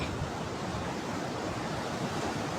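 Sea surf rolls onto the shore in a steady, even roar, with wind noise mixed in and no voices.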